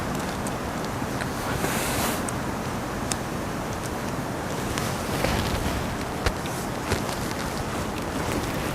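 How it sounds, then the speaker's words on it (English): Strong wind buffets the microphone in a continuous loud roar with gusty surges, no voices heard. "It's so windy that really can't hear you anyway."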